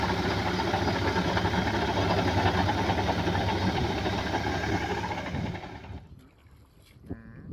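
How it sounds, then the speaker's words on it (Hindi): A Powertrac Euro 50, a 50 hp tractor, runs its engine with a steady loud rumble while working a rotavator in the field, then the engine sound drops away near the end. "पावरटेक यूरो 50 जो कि यूरो सीरीज का 50 एचपी का ट्रैक्टर है"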